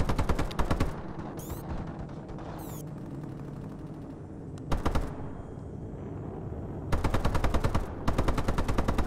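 Rapid automatic gunfire from the video game Call of Duty: Advanced Warfare rattles out in several sharp bursts, separated by quieter stretches of distant battle noise.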